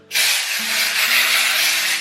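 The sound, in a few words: aerosol dry shampoo spray on hair roots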